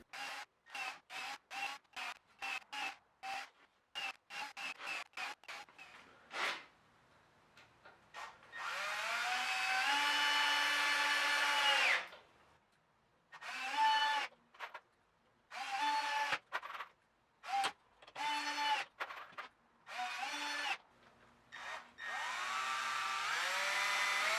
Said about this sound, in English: Next, I'll pre-drill the holes, then screw one side together.